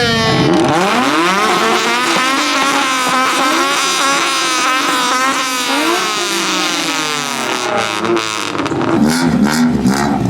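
A Honda CRX engine revs hard and continuously at a car meet rev battle, pitch climbing and dropping through the gears, loud and close throughout.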